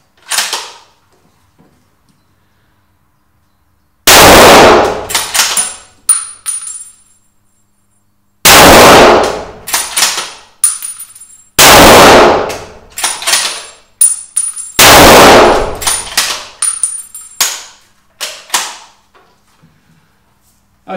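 A hunting rifle fires 230 grain Norma Oryx loads: four loud, sharp shots a few seconds apart, each followed by a ringing echo and faint clicks of handling before the next.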